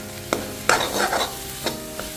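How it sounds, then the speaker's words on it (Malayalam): Semolina upma is stirred in a pan in the Kerala style, with a faint sizzle. A few distinct spoon scrapes and knocks sound close by over a short stretch. "നല്ല രീതിയിൽ നമുക്ക് ഇളക്കി കൊടുക്കാം."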